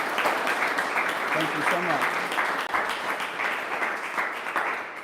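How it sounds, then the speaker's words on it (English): An audience at a Civil War round table applauds the speaker, steady many-handed clapping that fills the room throughout while a voice says thanks over it. "Give him another round of applause,"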